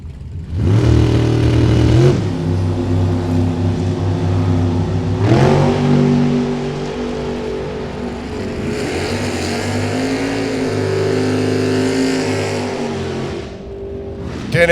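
Drag race with a 1989 Mustang coupe running a 370 cubic inch Chevrolet engine: loud, sustained V8 roar with rising revs and gear changes, another engine note joining, continuous and close over roughly fifteen seconds.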